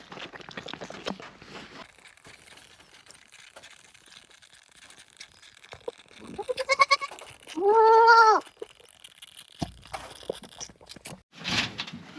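Goat kids bleat at a herders' camp in the Rajasthan desert while being bottle-fed milk: one long, clear, wavering bleat stands out near the microphone amid scattered shuffling, rustling and knocking noises.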